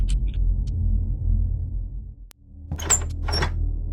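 Locked door in Hello Neighbor rattled by a player trying it, a few short clunks and handle knocks after a low rumbling background, with a brief silent gap between.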